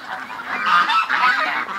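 Ducks kept in a pen give loud, close, overlapping honking quacks in a short continuous burst, with no speech.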